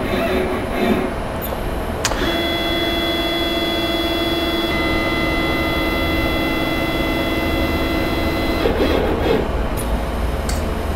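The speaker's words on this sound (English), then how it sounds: "You can hear my machine going to its home position." A Centroid CNC machine travels back to its home position, giving a steady motor whine with sustained tones that start around two seconds in and stop near eight and a half seconds, over a constant background hum.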